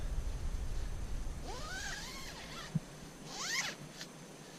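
The zipper on the inner shell of a Wilderness Equipment Dart 2 UL tent is pulled open in two quick rasping strokes, close and clear, with a small click between them.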